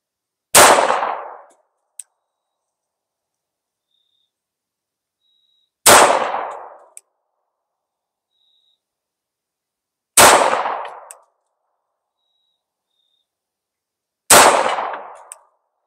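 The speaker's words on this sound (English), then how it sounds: "let's go 5 rounds of the 115 grain Winchester white box on" Four loud, close single shots from a Girsan Witness 2311 9mm double-stack handgun firing Winchester 115 grain white box rounds, spaced several seconds apart, each a sharp crack with a short decay over near silence.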